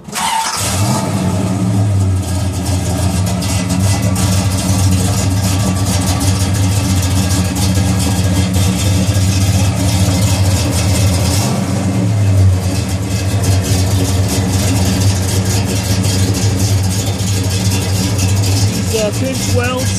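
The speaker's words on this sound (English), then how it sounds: "You're not going to hear me much over the rumble of that exhaust." A 1971 Pontiac GTO HO with dual performance mufflers idles with a loud, steady low rumble throughout, swelling briefly around mid-clip, while a person talks over it.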